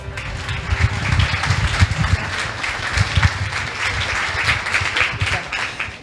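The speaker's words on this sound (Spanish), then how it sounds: "la recibimos con un enorme aplauso" An audience at a talk on veganism welcomes the speaker with sustained applause. It is thick and steady with a rumbling low undertone, and murmured voices are mixed in.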